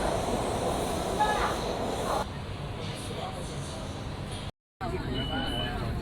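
Metro train bound for the airport in Guangzhou, heard from inside as a steady, loud rumble and hiss of the running carriage. It continues through a short dropout, with faint background chatter.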